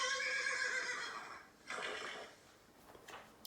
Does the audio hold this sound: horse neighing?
yes